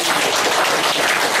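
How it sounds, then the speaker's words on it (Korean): Brief, dense applause from an indoor crowd at the office opening ceremony of a city council candidate, steady clapping without talk. "박수 한번 주십시오."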